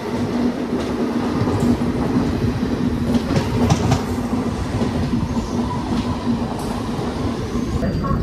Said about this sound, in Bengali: তো দেখুন কানপুর জাংশন ঢুকছে